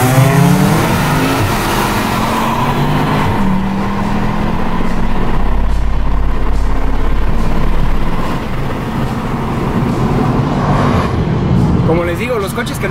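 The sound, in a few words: supercharged car accelerating in drag race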